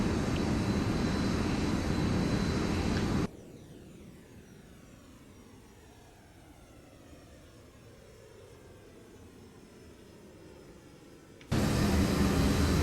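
A simulated airliner in FSX cruises at around 400 knots on a clear day, with a loud, steady engine drone that drops to a quieter rushing hum in the middle before the full roar returns.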